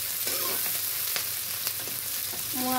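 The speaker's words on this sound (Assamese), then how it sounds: "এইখিনি এতিয়া ৰঙাকৈ ভাজি লওঁ ধুনীয়াকৈ" Duck meat with pumpkin fries in a pan for an Assamese duck curry, a steady close sizzle with soft stirring clicks over a few seconds.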